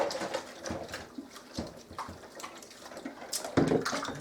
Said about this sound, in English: I do this with all my jars. Big jars, small jars, I don't care. Wash them all.